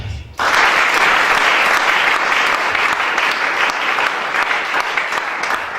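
A church congregation breaks into loud, sustained applause during a service, dense clapping starting abruptly and continuing steadily without a break, close and full.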